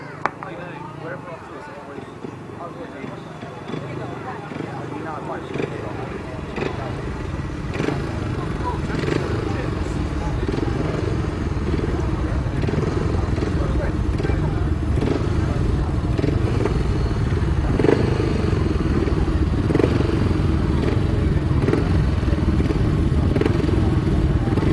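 500cc sidecar racing outfits run on a track, their engines droning at a steady, fairly loud level that builds slightly over time. A commentator talks over the engine noise throughout.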